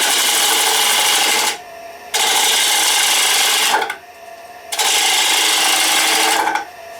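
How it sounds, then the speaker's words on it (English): A bowl gouge makes push cuts into a bowl turning on a wood lathe, giving three loud rasping, scraping bursts of about two seconds each, separated by brief quiet pauses. "I'm just going to hog away some of this material by doing some push cuts"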